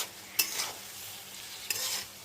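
Cumin and coriander seeds dry-roasting in a pan, with two sharp scraping stirs and a soft sizzle between them, close and fairly quiet.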